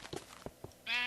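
A Minecraft sheep gives a short close bleat near the end, preceded by a few soft thuds and clicks of in-game movement, with no talking.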